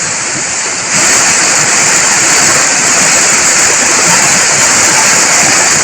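A swollen village stream in the Konkan countryside roars after torrential monsoon rain, a loud, steady broadband rush of water that jumps louder after the first second and then holds without pause.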